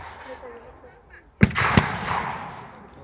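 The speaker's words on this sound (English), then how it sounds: "Meanwhile, the 25-pounders continue to hammer into the farmland." A WW2 re-enactment with 25-pounder field guns firing over farmland: two sharp, heavy booms in quick succession, loud and outdoors, followed by a rumbling echo over faint background noise.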